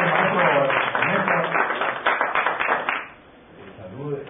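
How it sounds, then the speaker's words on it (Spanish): An audience at a contemporary Cuban music talk gives a loud, dense round of applause that stops abruptly after about three seconds, followed by quieter voices. "démosle como siempre un fuerte aplauso para recibirlos"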